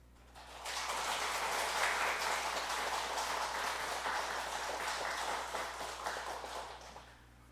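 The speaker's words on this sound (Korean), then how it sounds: "우리 박수로 우리 축하해 주시기 바랍니다" Applause from a church congregation at a Sunday morning service, a steady dense wash of clapping that swells in quickly, holds for several seconds and tapers off, moderately distant in the sanctuary.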